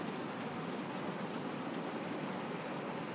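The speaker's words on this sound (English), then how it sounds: "this rain is really fucking loud" Heavy rain pouring at night, a dense, steady hiss of water that holds unbroken and fairly soft throughout, with no voices.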